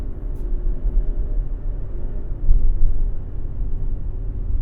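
A 2016 GMC Canyon with a Duramax diesel engine clatters while driving, heard as a steady low rumble with road noise that swells briefly midway.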